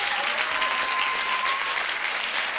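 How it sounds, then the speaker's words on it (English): A high school debate audience in an auditorium applauds the debaters, dense continuous clapping from many hands filling the short moment without pause. "a round of applause for the debaters."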